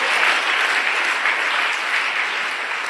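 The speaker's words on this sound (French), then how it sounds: "Laissons applaudir le grand, le merveilleux Saint-Esprit." A large church congregation claps continuously, a dense, even wash of applause from start to finish with no talking.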